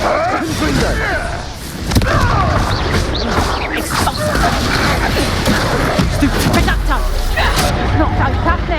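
A Confringo fire-blast spell explodes during combat in Hogwarts Legacy, giving dense, loud crashing and booming bursts with whooshes amid continuous battle noise, while a character shouts over it.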